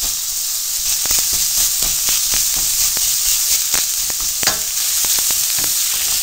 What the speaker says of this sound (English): Just press the meat down into the pan, breaking it up